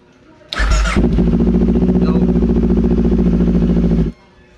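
A Kawasaki Ninja 400 motorcycle engine cranks briefly, then catches and settles into a loud, steady idle close by. After about three seconds it cuts off abruptly and quiet returns.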